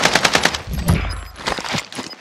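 Gunfire from a shotgun in a video game: a rapid run of loud, close shots at the start, then continued sharp blasts and game noise without talk.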